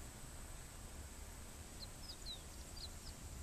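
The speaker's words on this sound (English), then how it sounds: "Can you hear the birds?" A few faint, high bird chirps sound in the distance at dusk in Japan over a soft, steady hiss.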